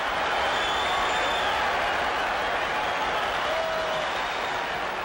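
A crowd of almost 66,000 fans in a baseball stadium at Game 6 of the 1980 World Series applauds steadily, a dense wash of distant clapping and cheering throughout, with a voice talking over it.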